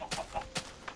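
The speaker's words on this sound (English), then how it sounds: "I just heard a bunch of chickens scream." Chickens in Minecraft give a quick run of three or four sharp, clipped squawks within about a second, fairly faint against quiet background.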